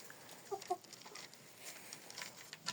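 Quiet, soft clucking from a few Sebright chickens nearby, short low calls over faint background rustle.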